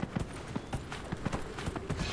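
Hooves of a horse mount clip-clop in Dragon Age: Inquisition, a steady rhythmic trot of soft repeated thuds at moderate volume, with no talk over them.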